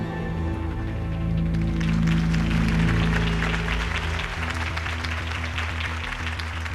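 In a video game, a crowd applauds after Harvey Dent's campaign speech, with sustained clapping and cheering layered over a swelling orchestral score that fades slightly toward the end.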